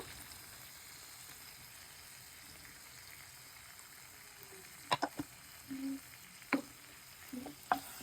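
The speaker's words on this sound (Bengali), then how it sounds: "এখন এটাকে আমরা নেড়ে ছেড়ে নিচ্ছি" Red chili powder frying in a pan for chili chicken gives a quiet, steady sizzle, then a spoon stirs it with several scrapes and clacks in the latter half.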